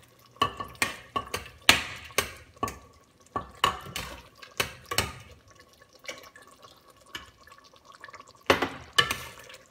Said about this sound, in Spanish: La voy echando poco a poco y voy mezclando.